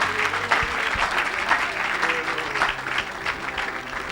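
Steady applause from a church congregation at a Pentecost revival service, many hands clapping continuously at moderate loudness with a faint murmur of the crowd underneath.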